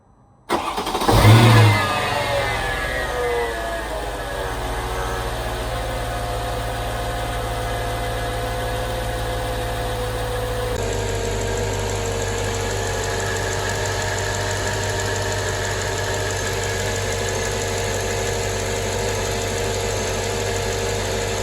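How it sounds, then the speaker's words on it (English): A Mercedes C55 AMG engine with the secondary air injection pump blocked off cranks and fires up with a brief loud rev, then settles into a steady, even idle that continues for the rest of the clip. "show you what it sounds like without the secondary air injection pump on startup"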